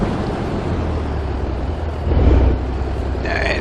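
A truck engine in the video game American Truck Simulator drones steadily with a low rumbling hum, rising briefly in a louder surge before settling back, sounding synthetic and constant.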